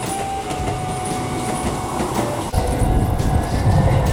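A Keisei 3400 series train rumbles past close by near a level crossing, with a steady roar and rhythmic clatter of wheels on rails that grows heavier midway.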